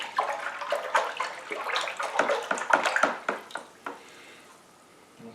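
Chardonnay wine kit must being stirred vigorously in a homebrew bucket, a close sloshing and swirling of liquid in rhythmic strokes that slows and fades toward the end.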